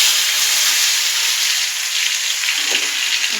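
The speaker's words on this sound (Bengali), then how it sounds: "তেলটা গরম হয়ে গেছে, এবার আমি কচুগুলো ছেড়ে দেবো।" Grated taro, squeezed of its water, goes into hot oil to fry for crisp chips, giving a steady, loud, bright hiss of sizzling that holds without a break.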